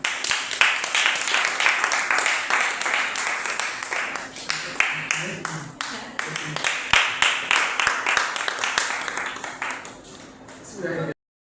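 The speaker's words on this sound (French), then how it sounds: "Alors, acclamez pour vous-même." Audience applause in a French-language talk setting, a dense wash of many hands clapping steadily for about ten seconds before tapering off, with a voice briefly heard underneath.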